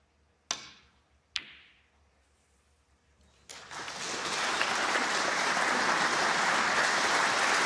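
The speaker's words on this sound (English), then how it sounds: "Wonderful shot. Greatly appreciated by the crowd." Two sharp clicks of snooker balls colliding, then a crowd at a snooker match bursts into sustained applause that swells and holds steady to the end.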